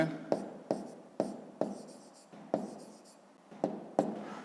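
A pen writes a math equality by hand on paper, giving a series of scratchy strokes, each starting with a sharp tap and trailing off, about eight in a row at an uneven pace, close and fairly quiet.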